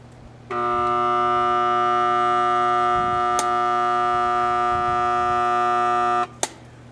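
A pool pump motor emits a loud, steady electrical hum with a strong tonal buzz, starting abruptly and cutting off after about six seconds, followed by a click.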